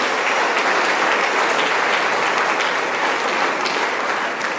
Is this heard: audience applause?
yes